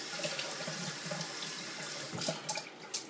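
Cold tap water runs steadily from a faucet over a shaving brush being rinsed at a sink, a continuous close splashing hiss with a few brighter splashes near the end.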